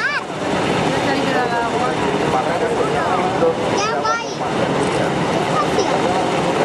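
An SH-60 Seahawk helicopter flies at the Gijón air festival, its steady rotor and engine roar filling the air continuously, with crowd chatter and voices mixed in throughout.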